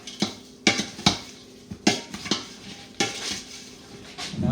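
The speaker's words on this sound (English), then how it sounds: "Get me a big spoon back here that I can stir it with. We're going to just stir all this together." A big spoon stirs boudin meat and seasonings together in a pot, giving a series of sharp metallic clanks and scrapes in an irregular rhythm, close up with no talking.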